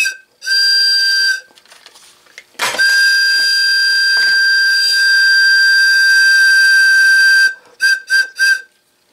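A small homemade Weeden steam whistle blows shrill and high for several sustained blasts. A longer tone runs for about five seconds, and a few short toots follow at the end. It is close and loud, with no talk.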